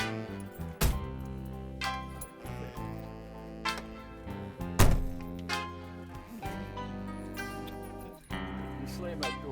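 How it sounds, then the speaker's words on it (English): A 1961 Mercury Comet door is slammed shut with a heavy, solid thunk, and a couple of other loud knocks follow amid talk and chatter inside the car. "You slam that door hard"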